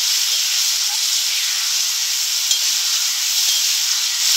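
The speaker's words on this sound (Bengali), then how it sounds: "এবার এর মধ্যে সেদ্ধ করে রাখা করমচাগুলো দিয়ে দেবো।" Boiled karonda fruit goes into a hot pan while pickle is cooked, giving a steady loud sizzling hiss throughout with a few faint clinks of stirring.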